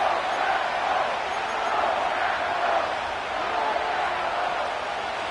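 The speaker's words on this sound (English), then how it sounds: "This crowd into it now as we get to third down." A football stadium crowd at a Chargers versus Packers game, a broad continuous roar of cheering that swells ahead of a third down, loud and steady throughout.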